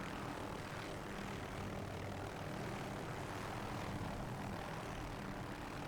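An AH-6J helicopter lifts off in the combat flight game DCS World, its engine and rotor making a steady, loud, unbroken drone with no voices.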